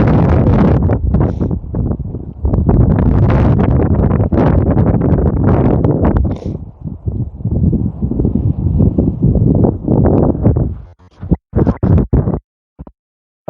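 Wind buffets the microphone on a golf course, a loud, steady broadband roar for most of the stretch that eases after about six seconds and breaks into short gusts near the end.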